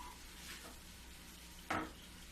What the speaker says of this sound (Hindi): जब तक मैं मावा भूंज रही हूँ